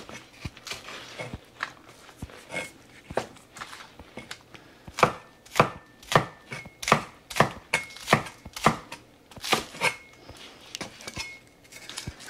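Green onions and ginger being chopped with a knife on a board for a Chinese steamed bass, a run of sharp, close knocks that speeds into a fairly regular rhythm, with no voices.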